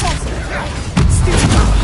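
A Confringo fire spell bursts in Hogwarts Legacy, a loud booming blast that hits about a second in and swells into a dense, crackling roar, with game noise and a voice beneath.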